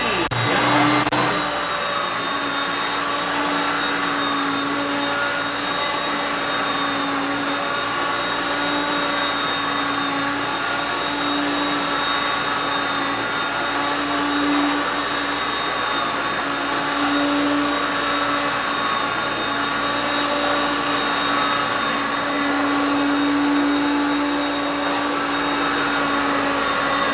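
A 40-year-old Hoover Concept One vacuum cleaner runs steadily with a loud, constant motor whine and airflow roar, close and unbroken, with no voices.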